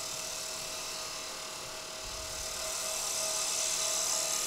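A wood lathe turns a Celtic knot pen blank down to its bushings, giving a steady, fairly loud high whirring hum with a faint scraping texture that holds evenly throughout, with no voices.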